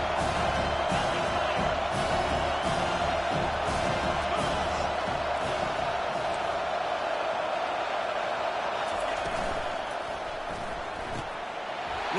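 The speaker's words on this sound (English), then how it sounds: "Decibels rising as the crowd gets behind this defense on third down." Football stadium crowd roaring on third down in a college football video game against Oregon State, a dense sustained cheer that stays loud and gradually eases near the end.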